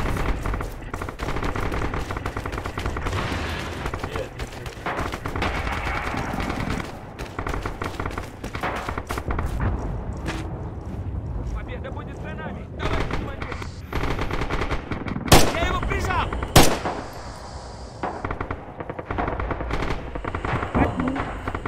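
Rapid machine gun bursts crackle through a Red Orchestra 2 battlefield, loud and dense for most of the stretch, joined by sharper isolated shots and booms near the end.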